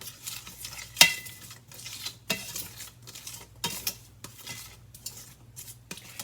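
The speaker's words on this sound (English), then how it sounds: "I want to mix that around a little bit." A utensil scrapes and clinks against a pan of quinoa in short strokes, with a faint sizzle underneath.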